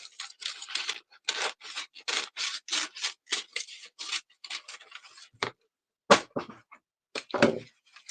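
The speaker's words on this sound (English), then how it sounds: "So I'm just cutting this off." Scissors snip through thin greaseproof or tissue paper close by, a rapid series of crisp rustling cuts in irregular bursts with brief pauses between them.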